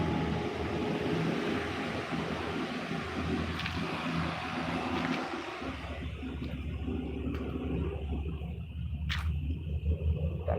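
A bus speeds away from Palembang, its engine a steady, loud low rumble with road roar that shifts midway to a deeper, smoother drone, with no talking.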